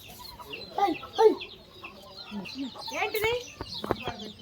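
Large fighting roosters on a farm cluck and call in short, scattered bursts, fairly faint, mixed with people talking nearby.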